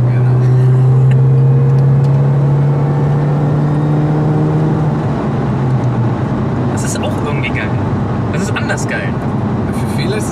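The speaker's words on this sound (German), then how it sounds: "Wir wollen ja den geilen Kompressor hören" A supercharged Mini Cooper S engine holds a steady, loud drone with a whining tone for about five seconds, then settles into broader road and engine noise with faint higher clatter near the end.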